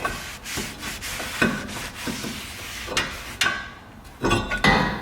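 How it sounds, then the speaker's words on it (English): A Jaguar XJ brake rotor being wiped clean by hand, close scrubbing and rubbing strokes in an uneven rhythm with a few sharper knocks, fairly loud and with no talk. "Clean your rotor off too. I'm gonna clean it. Clean that all off."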